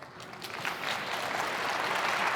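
A crowd applauding at a conversation event in a hall, a dense burst of clapping that swells and holds steady for a couple of seconds.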